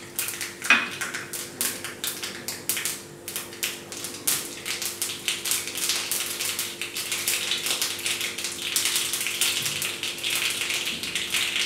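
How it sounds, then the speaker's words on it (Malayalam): Mustard seeds spluttering in hot oil in a Kerala cheenachatti while tempering for papaya thoran: a dense, continuous crackle of sharp pops and ticks, close and steady, with no talking. "നമുക്കിനി കടുക് ഇട്ട് പൊട്ടിക്കാം."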